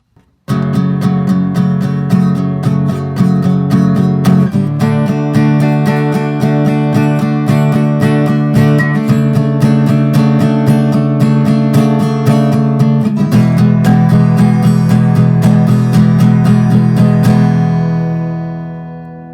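A strummed acoustic guitar plays the chord progression of a song, with loud, rhythmic strums that shift chords every few seconds and ring out at the end.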